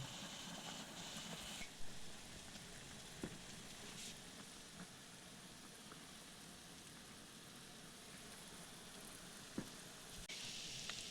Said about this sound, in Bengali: এরপর এটিকে এখানে প্রায় 10 মিনিটের মতো ফুটিয়ে নেব গ্যাসের আঁচটি ফুল রেখে